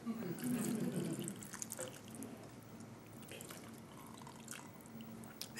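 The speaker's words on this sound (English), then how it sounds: "Then I want to put a cup of water in there" A cup of water being poured into a cooking pot during home cooking, making a steady splashing, trickling stream that settles into drips, close by, with someone talking over it.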